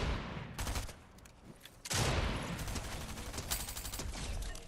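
Bursts of gunfire in the Fortnite video game, loud rapid shots in two main volleys with a short gap between them.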